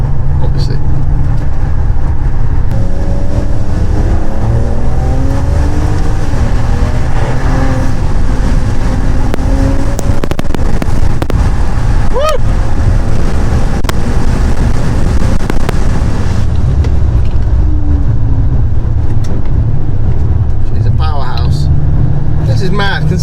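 Turbocharged BMW 335i engine droning steadily from inside the car while driving, with rising and falling harmonic tones of boost. Someone talks over it throughout.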